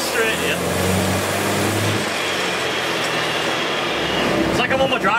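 Vintage Series 1 Land Rover engine accelerating on a straight road, a steady loud drone with low rumble and rising pitch, continuous throughout with some speech-like sounds over it.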